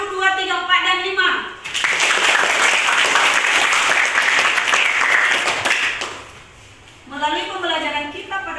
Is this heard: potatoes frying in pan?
no